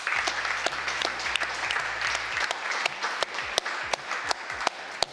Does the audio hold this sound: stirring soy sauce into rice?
no